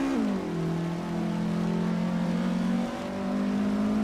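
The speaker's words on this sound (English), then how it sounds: "Firesnip 69 TTV is driving a 1968 Porsche 912R." A 1968 Porsche 912R engine drones steadily in a racing video game, its pitch dipping and rising as it shifts through gears, loud and continuous with no talk over it.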